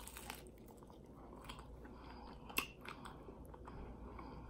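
Biting into a crunchy deep-fried egg roll stuffed with smoked neck bone and ham hock gives a few soft crunches and chewing sounds, faint and close, with one sharper crackle midway.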